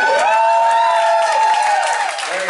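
Audience at a comedy show at the Cutting Room in New York breaks into loud, sustained cheering and whooping with applause underneath, a dense crowd roar filling the whole moment and easing slightly toward the end.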